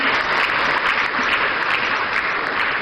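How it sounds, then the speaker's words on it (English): Sustained applause from a large conference audience at the National Economic Dialogue 2025 in Ghana, dense steady clapping filling the hall at an even loudness throughout. "Another round of applause, ladies and gentlemen."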